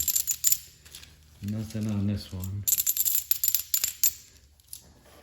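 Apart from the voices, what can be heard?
coins clinking in a coin roll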